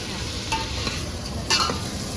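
Prawns frying in a pan are stirred, a steady close sizzle with two brief scraping stirs of the spatula over it, no voices.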